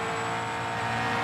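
A Supercars race car at The Bend powering through turn 5, a loud, sustained engine roar with a steady high-pitched whine at close range.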